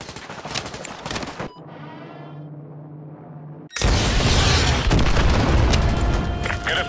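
AGM missile strikes in Call of Duty Modern Warfare 2 Remastered: loud combat noise, then a quieter humming stretch, then a sudden heavy blast that stays loud and rumbling to the end.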